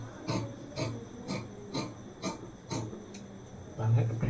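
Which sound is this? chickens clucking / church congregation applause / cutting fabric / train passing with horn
cutting fabric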